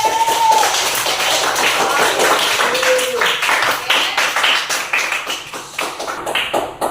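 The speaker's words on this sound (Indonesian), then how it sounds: "sekali lagi tepuk tangan buat kita semua" Classroom of students clapping together for their classmates, a dense, fairly loud patter of many hands lasting several seconds, thinning toward the end, with a teacher's voice briefly heard.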